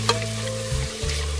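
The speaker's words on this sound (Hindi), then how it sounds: "बस हल्का सा हमने देखे इसको मसाले में भूनना है" Spices and vegetables for a mixed vegetable dish frying in a pan, a steady close sizzle with spoon scrapes and stirring sounds over a short moment.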